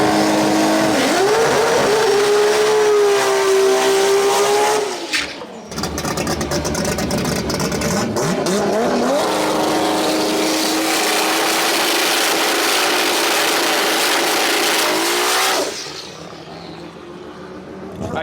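A 3000-horsepower RB30-powered import drag car launches and roars solo down the strip, a loud sustained engine scream rising in pitch, a brief gear-change dip near five seconds, then fading as it pulls away near the end.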